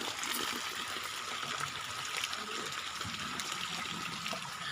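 Water flows steadily at a low, even level, a continuous trickle and rush like a tank or container filling, with no talk.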